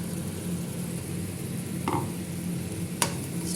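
Egg gravy stirred in a pan after ground tomato goes in, with a steady close sizzle and a couple of brief scrapes and knocks of a spoon against the pan. No one talks.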